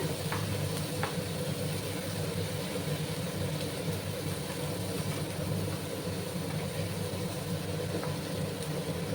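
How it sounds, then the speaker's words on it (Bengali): Onion and garlic paste sizzles steadily in hot oil while being sautéed for a Bengali small fish curry, a constant close frying hiss with faint stirring scrapes and no talking. "পেঁয়াজ রসুনের যতক্ষণ না কাঁচা মশলা যাচ্ছে কিছুক্ষণ কষিয়ে যেতে হবে"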